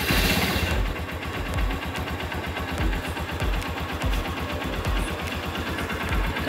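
A Honda Supremo motorcycle engine runs steadily after an oil change, a close, continuous rapid putter with even firing pulses after a brief louder burst at the start.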